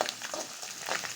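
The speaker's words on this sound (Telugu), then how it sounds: "పోపు అయితే వేగాక తెల్లగడ్డలు వేసేద్దాం" Tempering spices and garlic fry in hot oil in a pan, giving a faint, steady crackling sizzle throughout the brief moment.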